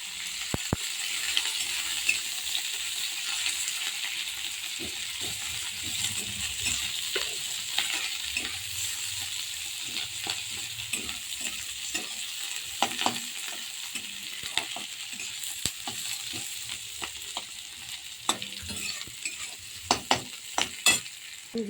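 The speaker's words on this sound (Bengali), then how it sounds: "লঙ্কা রসুন কুচি দিয়ে দেবো। ভালো করে ভাজে নিয়ে শাকগুলোকে দিয়ে দেবো।" Chopped green chilli and garlic fry in a pan, giving a steady bright sizzle with repeated stirring scrapes and sharp utensil clinks throughout. No one speaks.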